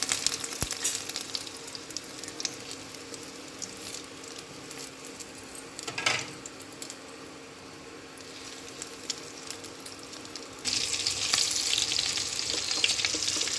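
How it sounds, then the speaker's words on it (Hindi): Chicken shami kababs frying in hot oil over a lowered flame, a continuous close sizzle and crackle that swells louder near the end, with no talking. "तेल गर्म हो गया है, फ्लेम को धीमा कर दे रहे हैं। इसको फ्राई करेंगे।"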